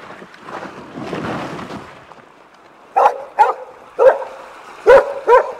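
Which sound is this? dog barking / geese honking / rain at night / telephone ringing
dog barking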